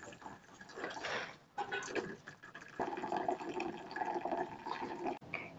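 Cooking water is drained off boiled kalara (bitter gourd) leaves and pumpkin, a faint, close trickling and splashing pour that runs continuously for a few seconds before stopping abruptly.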